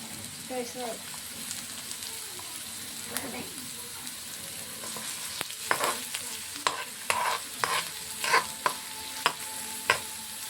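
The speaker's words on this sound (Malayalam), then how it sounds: "ഇനി ഈ എണ്ണ തിളച്ച് വരുമ്പോൾ നമുക്ക് ഇച്ചിരി സവാള ഇടാം." Steady hiss of onions sizzling in hot oil, with sharp stirring clinks and scrapes growing more frequent toward the end.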